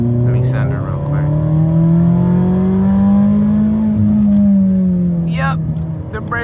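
A Mazda Miata accelerates hard along a road, its engine note climbing steadily in a loud, continuous rising drone heard from inside the car, with a brief shift dip and wind noise near the end.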